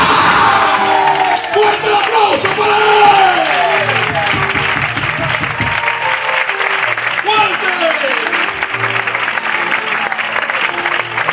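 An audience applauds and cheers at a live performance, a dense continuous wash of clapping with whoops and shouts rising above it, loud and close throughout.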